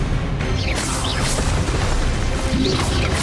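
Fiery spell impacts with whooshing bursts from the Incendio fire spell in Hogwarts Legacy, cast while burning spiders, forming a dense, loud, continuous roar with several sharp bright flares and sweeps.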